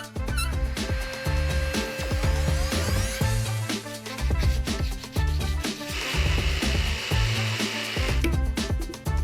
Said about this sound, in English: it's just going to round this over to make it pretty